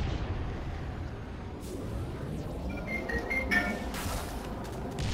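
Grenades blow up in a video game, a low rumbling blast with a sharper burst and crackling debris partway through, heard at moderate level against a steady background roar.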